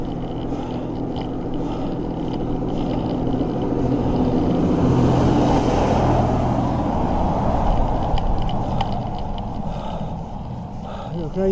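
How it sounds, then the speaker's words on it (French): Trucks rumble past on a mountain road heading toward Aveyron, a broad engine roar swelling as one draws near mid-clip and then fading. "Donc là, il y a des camions qui passent pour rejoindre l'Aveyron."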